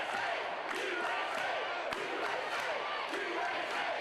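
A crowd at an NWA Rocky Top wrestling match cheers and roars for a tag team, loud and continuous, with sharp slams or thuds from the ring cutting through the noise.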